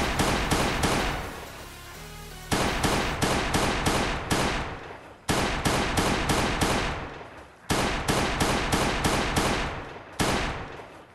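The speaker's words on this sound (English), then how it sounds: "I'll have to use the pistol to take this guy down." Repeated pistol shots in the zombie survival game Last Day on Earth, loud and close, fired in quick bursts of several rounds separated by short pauses, with no talking.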